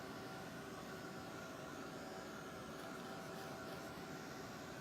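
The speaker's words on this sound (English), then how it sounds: "The other thing you'll need is a heat gun or some sort of tool to heat the wax." A heat gun blows a steady, even hiss of hot air across layers of encaustic wax, a constant whooshing drone close by with no pauses or talking.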